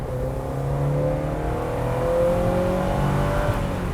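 A 1994 Porsche 968 engine revving, heard from outside the car, a steady droning tone that climbs gradually in pitch over several seconds, moderately loud and without talk.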